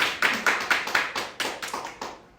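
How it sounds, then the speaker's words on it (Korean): A small church congregation at a Sunday service claps in a short run of about nine distinct, evenly spaced claps, fairly close and then fading out. "한번 박수 한번 쳐주십시다."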